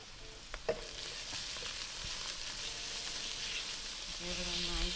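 Garlic sizzles and fries steadily in hot rendered oxtail fat in a pan for an oxtail Alfredo sauce, with a soft clatter of a spatula stirring near the start and a constant close hiss throughout.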